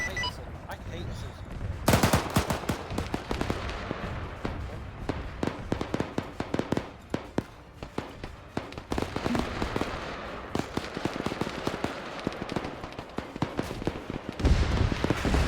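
Dense bursts of gunfire crackle through a combat scene in the Arma 3 war game, with a heavier rocket impact on a BTR-70 armored vehicle; rapid shots come in loud clusters, with brief lulls between them.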